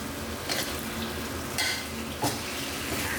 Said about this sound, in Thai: หลังจากนั้นนะครับก็ผัดจนกว่าใบโหระพาจะสุกสลดแบบนี้ครับ